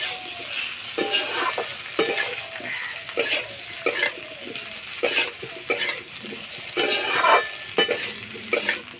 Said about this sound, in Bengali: যতক্ষণ আলু গায়ে আঁচ লাগবে ততক্ষণ এইভাবে ভাজতে থাকবো